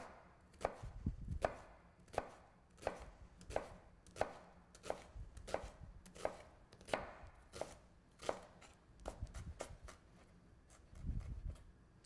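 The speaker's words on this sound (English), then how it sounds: "That's a properly diced onion." A knife dices an onion on a cutting board using the claw method, a run of evenly spaced, crisp chops landing about once a second, close and clear against near silence.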